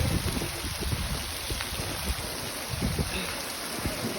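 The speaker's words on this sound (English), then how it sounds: "Now there's big drops, man, and the rain gutters just pouring down." Heavy rain in Las Vegas pouring from rain gutters, a dense continuous rushing and splashing wash with scattered louder drips, close and steady throughout.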